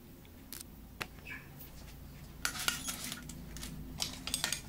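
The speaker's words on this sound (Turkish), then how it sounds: "Şimdi hazırlamış olduğumuz harcımızdan birer yemek kaşığı koyalım." A tablespoon spooning filling into slit leeks, heard as sparse light clinks and soft scrapes of metal against a dish, quiet and close, with a busier patch of clatter toward the end.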